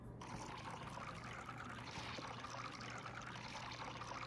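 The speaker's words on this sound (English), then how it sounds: "And let's pour some wine in there." Wine pours into soup in a VR game as a soft continuous trickle of liquid with a faint low hum beneath, quiet and unbroken throughout.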